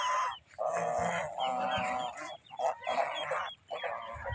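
Several geese kept on an open school field at a goose farm honk loudly in repeated bursts, their nasal calls overlapping and broken by short pauses, with no voices among them.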